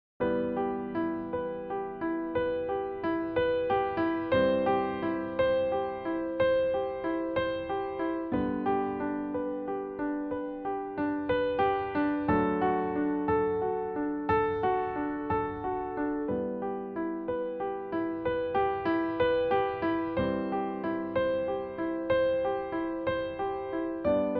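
Soft piano playing flowing right-hand broken chords, notes rolling downward from top to bottom in a steady repeating pattern, sustained and gentle with no voices.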